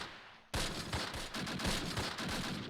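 Gunfire from the WWII tactics game Close Combat Last Stand Arnhem, set at Grafwegen in September 1944: after a quiet start, a dense, continuous fusillade of overlapping rifle and machine-gun shots rattles on with no voices.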